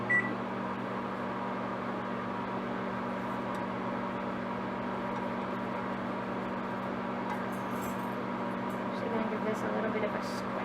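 A microwave oven hums steadily while heating soup, a constant close drone with a faint beep near the start and light kitchen clatter toward the end.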